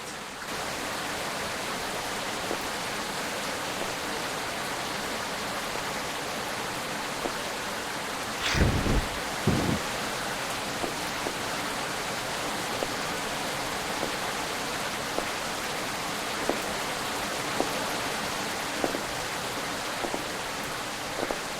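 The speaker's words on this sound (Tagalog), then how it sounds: "Lakas ng ulan eh." Heavy rain in the Sakura School Simulator video game makes a steady, dense hiss throughout, with a couple of brief low thumps partway through and faint clicks scattered over the downpour.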